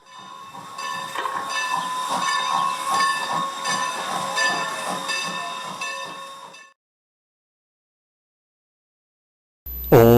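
Restored steam train at the Strasburg Railroad, a loud sustained whistle with hissing steam for about six seconds, then silence before a brief loud burst at the end.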